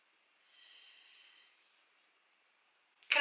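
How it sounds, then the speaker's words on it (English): A sleeping dog gives a single soft, breathy snore lasting about a second, faint and on its own in a quiet room, before a sudden louder noise cuts in at the very end. "Can I just point out that's my dog snoring?"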